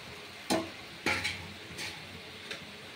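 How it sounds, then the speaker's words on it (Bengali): Bhola fish curry stirred gently in a pan: a few separate scraping clinks of a spoon against the pan, spaced about a second apart, over a faint low background. "আস্তে করে নাড়িয়ে নেবো মাছটা দিয়ে।"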